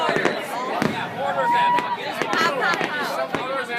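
Mortar fireworks burst over a beach on the Fourth of July, sharp booms and cracks scattered among lively nearby voices of people talking and shouting over the display.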